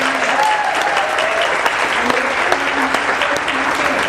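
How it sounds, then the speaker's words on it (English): An audience claps for Sue at a 2016 show: dense, steady applause from a sizeable crowd that holds at an even level throughout, with no break and no speech over it. "give Sue a big round of applause"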